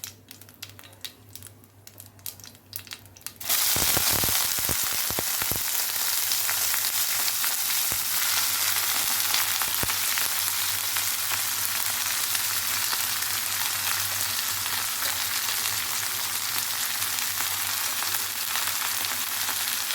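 Salted brinjal pieces and onion frying in a hot tempering: after a few quiet seconds, a loud, steady sizzle begins and carries on without a break, with occasional crackles and stirring noises.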